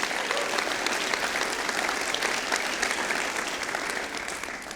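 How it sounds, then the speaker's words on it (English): An audience applauds the volunteers at an Alex Montoya talk on overcoming adversity, a dense, even roar of clapping from a large crowd that holds steady across the whole stretch without a break. "How about a round of applause for all the volunteers that have just made everything possible?"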